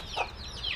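Fancy-breed chickens on a Kerala poultry farm give a short, close cluck or two over a steady bed of farmyard background noise.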